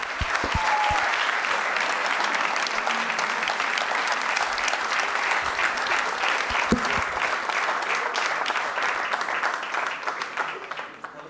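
Sustained applause and cheering from an audience at the Personnalité de la Côte 2015 awards evening, welcoming a silver medallist to the stage; dense, steady clapping fills the whole stretch at strong, even loudness.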